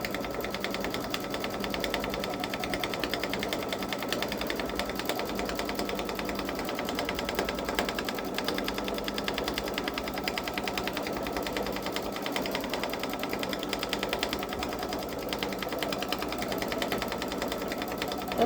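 A Babylock Solaris Vision sewing machine stitches edge-to-edge quilting on a turtle seascape panel, its needle running in a fast, even, continuous rattle at close range with no talking.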